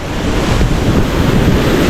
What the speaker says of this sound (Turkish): Burası da dediğim gibi Aslan Şelalesi